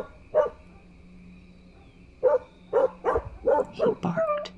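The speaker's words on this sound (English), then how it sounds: "He barked. Yes, he barked horribly." A dog barks harshly, one bark followed after a pause by a rapid run of five or six loud, close barks, with a faint steady hum underneath.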